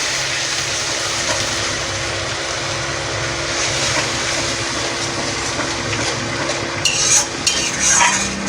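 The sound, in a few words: stir-frying fish curry spice paste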